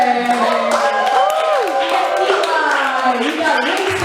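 Studio audience at a late-night game show applauding the contestants: dense, steady clapping with whoops and voices rising over it for about four seconds.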